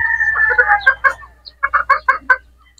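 A game fowl brood stag rooster and two pullets close by give a run of short, throaty clucks and calls in irregular bursts, fairly loud, with a brief pause midway and no talking.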